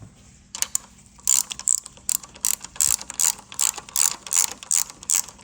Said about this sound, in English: Grab your ratchet wrench.